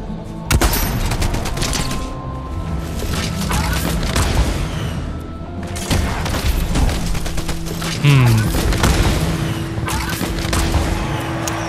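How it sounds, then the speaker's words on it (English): Fortnite gunfire echoes through a Zero Build ranked solo match as loud, sharp sniper shots and bursts of other weapons ring out, layered over vehicle engine noise. "Totally missed that sniper shot."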